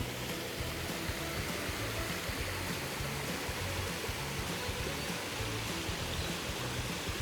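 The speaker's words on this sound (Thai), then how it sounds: "อันนี้ลำธารไหลมาจากบนนู้นนะคะ คือน้ำตก พรมโลกนะคะ ก็ไหลลงไปข้างล่าง" A stream flows down from Phrom Lok waterfall in Phrom Khiri, Nakhon Si Thammarat, with a steady, full rushing of water that holds even and unbroken throughout, with no voices over it.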